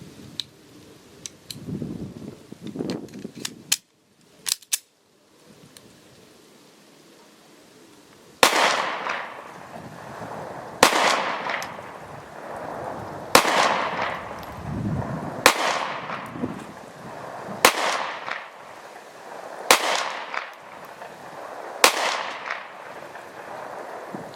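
Remington R51 pistol fires about eight sharp shots at a steady pace, each crack ringing out loud and close after a few quieter clicks and handling noises at the start.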